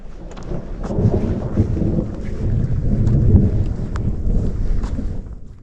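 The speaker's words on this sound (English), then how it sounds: "And there's thunder over." Thunder rolls through a mountain storm in the Dolomites near Tre Cime, a deep rumble that swells and fades over rain pattering close by, with some wind buffeting.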